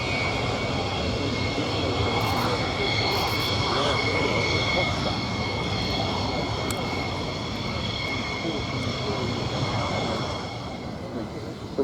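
An F-16 Block 52 Plus fighter jet fitted with conformal fuel tanks roars steadily and loudly throughout, a broad continuous engine rumble with a whine on top, with voices talking over it.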